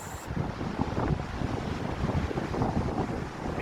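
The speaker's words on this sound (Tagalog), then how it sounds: "Medyo kunting hangin pero hindi naman malamig." Steady wind buffeting the microphone outdoors at Gullfoss waterfall in Iceland, a continuous low rumble with gusty texture, loud and close, no voices.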